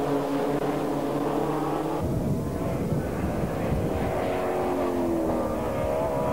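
TVR Tuscan race cars roar past at Castle Combe circuit in 1995, a loud engine note sweeping by with a sharp change in pitch midway, over an excited commentator's voice.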